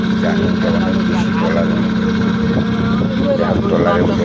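A trawler boat's engine drones steadily during a river crossing toward the Daulatdia ghat, with a constant low hum running under people talking nearby throughout.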